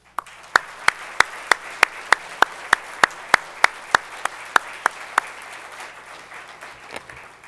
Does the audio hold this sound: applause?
yes